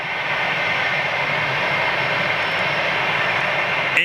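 Rolls-Royce Trent XWB-powered airliner roaring overhead at Manchester: a loud, continuous broadband engine rush that holds steady throughout, close and unbroken, with no talk.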